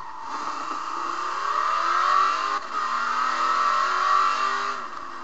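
Race cars in the video game Race Injection rev and accelerate continuously, a loud, steady engine roar with rising pitch sweeps and no talking.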